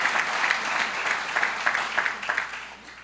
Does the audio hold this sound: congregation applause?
yes